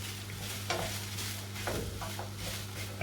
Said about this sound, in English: And then start to fry all together.